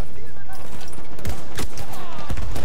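Gunfire in the Battlefield 1 multiplayer video game: a loud cluster of sharp shots and bursts over a rumbling battlefield background, with a player's voice speaking over it.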